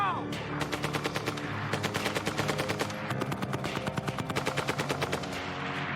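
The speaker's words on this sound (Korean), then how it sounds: "Firing now!" Machine-gun fire in a shooting experiment at balloon targets rattles out in rapid bursts of sharp, loud reports with brief pauses between volleys.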